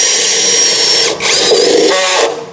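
A cheap cordless screwdriver with a slip clutch drives a screw: a loud, close, high motor whine runs for about a second, pauses briefly, then whirs again and winds down at the end.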